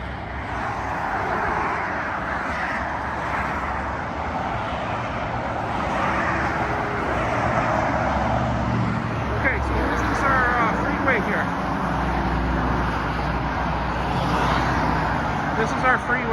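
Freeway traffic in Vancouver rolls past below an overpass as a steady broadband roar of passing vehicles, with a person talking over it throughout.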